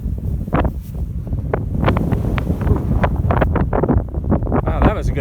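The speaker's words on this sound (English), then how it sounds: "wow, that was a good blast of wind." A gust of wind buffets the microphone outdoors in a spring garden beside a strawberry bed, with rumbling bursts and rustling over several seconds, loud and close, and a voice speaking faintly beneath.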